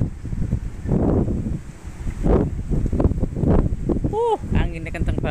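Strong wind gusts buffet the microphone in a rural outdoor setting near a goat pen, roaring in waves throughout, with a person talking over it and a brief whistle-like tone near the end.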